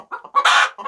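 Backyard hens give a few short, close clucks, then one louder drawn-out squawk, followed by softer clucks; loud and near, with no talk.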